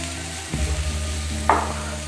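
Finely chopped onion drops into hot ghee in a pan, giving a steady sizzle with a soft thump when it lands and a brief clink of a utensil afterwards.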